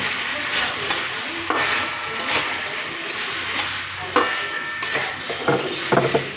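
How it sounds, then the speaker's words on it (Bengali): Mixed vegetables sauté in a pan, a loud, steady close sizzle with repeated scraping and stirring strokes of a spoon that come at an uneven rhythm. "কষাটা আমার প্রায় হয়ে গেছে"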